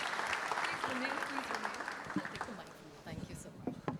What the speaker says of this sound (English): give a big round of applause to these two excellent experts